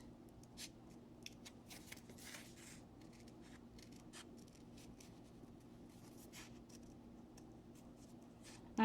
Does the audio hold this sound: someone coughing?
no